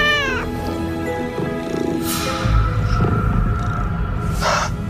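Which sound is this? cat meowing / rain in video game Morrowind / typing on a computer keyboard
cat meowing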